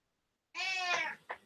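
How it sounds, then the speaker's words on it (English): A house cat gives a clear, close meow lasting about half a second, followed by a short softer chirp, alone in a quiet room. "I don't know if you can hear the cat or not"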